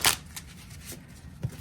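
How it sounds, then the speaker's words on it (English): A deck of tarot cards being shuffled nearby, with a sharp riffle burst at the start followed by a few softer flicks and taps. "It's a good shuffle."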